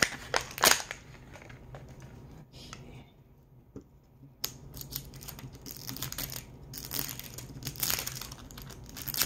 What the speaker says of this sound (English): You can hear the peel.